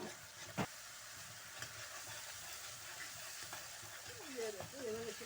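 Chicken hits a pot of browned masala with green chili and ginger-garlic paste for a karahi, giving a soft steady sizzle with occasional spoon scrapes and clacks as it is stirred, at moderate, close volume.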